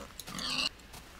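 A single short, faint pig grunt, nasal and squealing at the end, with no other sounds around it.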